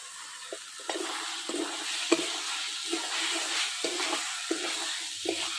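Soybean chunks and potato are stir-fried in a pan for a Bengali soybean kosha, with a soft sizzle under repeated rhythmic spatula scrapes, about one every half second, close up and without talk.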